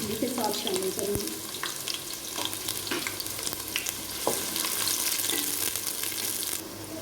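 Chopped onions sizzle in hot ghee and oil for masala bhindi, a steady close frying hiss with occasional stirring clinks and scrapes, no talking.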